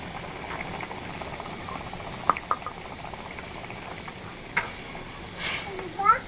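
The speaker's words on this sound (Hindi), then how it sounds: "ये जी यहाँ पे इसको पकते हुए तकरीबन 12 मिनट हो चुके हैं।" Aloo bukhara plum chutney simmers in a pot, a soft continuous bubbling and hiss with faint pops, quiet and close, with no talking.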